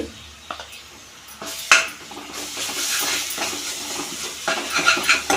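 Ginger garlic paste frying in a pan for a potato masala kurma, with a steady soft sizzle and occasional clinks of a spoon stirring against the pan, close and moderately loud.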